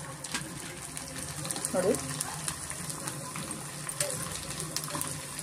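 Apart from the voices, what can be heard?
rice sandige dropped into hot oil for deep frying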